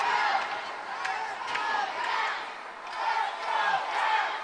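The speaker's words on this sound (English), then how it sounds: "we got the crowd into it tonight" The crowd at a Des Moines Capitals hockey game keeps up a sustained roar of cheering and yelling that swells and fades in waves. It fills the arena at a steady level with no single voice standing out.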